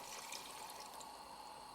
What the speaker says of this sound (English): Place in the veal stock.